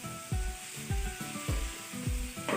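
Kaleji (liver) fries in a pan with a steady sizzle, broken by four or five regular scraping stirs that each bring a soft thump and a burst of crackle, close and fairly quiet.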